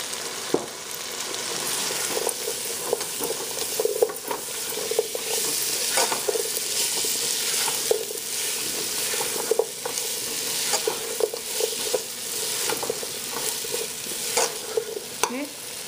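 Flour being stirred into a pot as the base for mung dal soup: repeated scraping and stirring strokes against the pot over a faint steady sizzle, close and irregular, with no voices.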